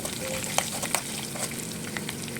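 Steady sizzling of garlic, chana dal and spices frying in hot oil as a tempering, with a few light clicks of stirring throughout.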